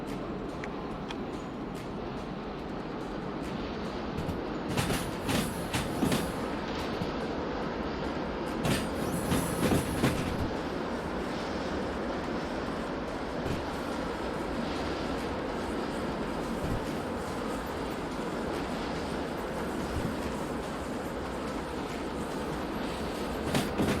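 A modded Russian Alco six-axle locomotive runs in the train game Derail Valley, giving a steady rolling rumble with a broad hiss and a few brief brighter bursts. No one speaks over it.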